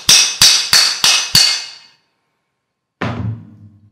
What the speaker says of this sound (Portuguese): Vamos usar o martelo aqui.